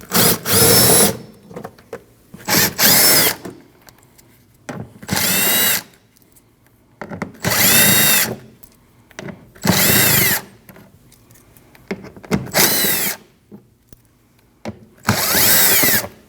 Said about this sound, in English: Your wheel liner in the front is held on by 1 8 and 6 7 millimeter bolts. You need to remove those.